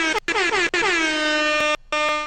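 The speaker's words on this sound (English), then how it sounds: "One of my favorites is the air horn." Loud, blaring air horn sound effect played in repeated blasts, the harmonic-rich tone dropping slightly in pitch before holding steady, with short gaps between bursts and a final separate honk; no talking.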